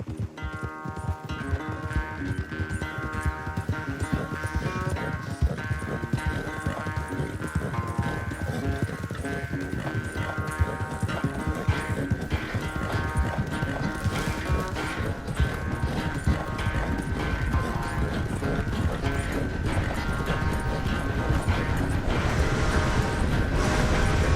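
Horse hooves gallop in a steady, rapid clip-clop rhythm throughout a Red Dead Redemption 2 race, loud and close, with game music and ambience layered underneath and no talking.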